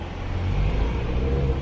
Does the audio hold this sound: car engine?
yes